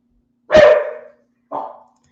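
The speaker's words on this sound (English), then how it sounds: "what are you barking at?" Pet dog indoors barking at a passing delivery truck: one loud, close bark followed by a shorter, softer second bark, with silence around them.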